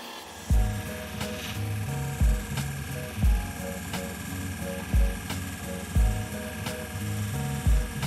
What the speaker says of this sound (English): So we'll get going on the 600 grit wheel.